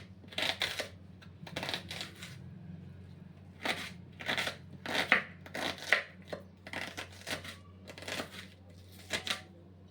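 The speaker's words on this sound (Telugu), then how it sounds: "ఇప్పుడు ఒక ఆనియన్ తీసుకుందాం. ఇది కూడా సన్నగా కట్ చేసి పెట్టుకుందాం." A knife finely chopping an onion on a board, a bendakaya fry being prepared: bursts of quick, crisp chopping strokes in repeated runs with short pauses, close and clear over a low steady hum.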